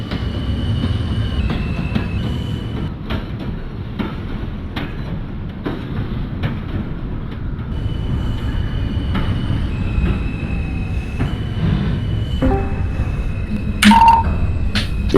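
A simulated NYC subway R160A Alstom train in the OpenBVE game, with a steady rumbling roll and clicking wheels, faint high-pitched squeals, and a short tone near the end.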